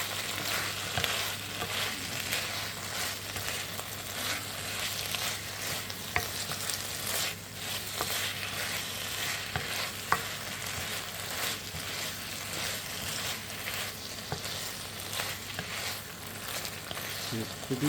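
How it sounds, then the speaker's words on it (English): Chicken chow mein is tossed and stir-fried in a hot pan, giving a steady, continuous sizzle broken by scattered scrapes and clinks of stirring throughout. "I'm just going to give this a good mix, and we're going to cook this for about a minute."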